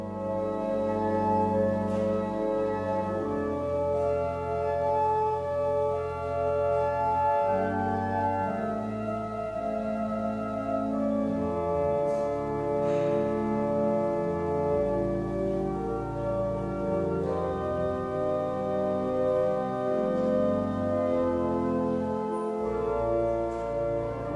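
A peal of church bells rings out at St Editha's church in Tamworth, many bells striking in a continuous changing pattern with overlapping resonant tones, steady and moderately loud throughout.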